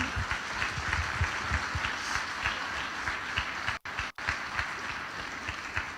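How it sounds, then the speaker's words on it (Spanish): A church congregation claps together for a pastor, a dense, steady wash of applause filling the room with two brief dropouts midway and no voices over it. "Vamos a darle un fuerte aplauso."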